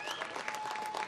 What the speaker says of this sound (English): the Turkish crowd go crazy